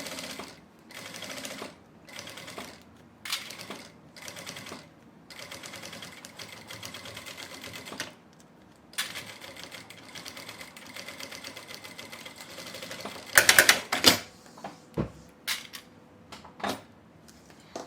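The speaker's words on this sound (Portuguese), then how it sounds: "eu continuo costurando" A sewing machine stitches the bottom of a handmade French-braid bag built from milk cartons, running in steady bursts with short pauses between runs and a few louder clunks near the end, alone with no talking.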